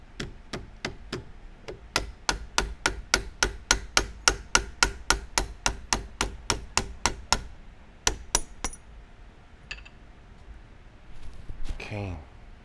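A hammer lightly taps an anvil in a steady run of sharp metallic strikes, close and fairly loud, pausing briefly before a few more taps, with faint movement noise at the end.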